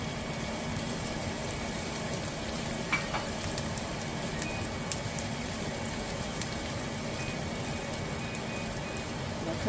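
Garlic sizzles in a hot pan while being cooked for coq au vin, a steady, close crackling hiss with occasional pops and light stirring, no talking.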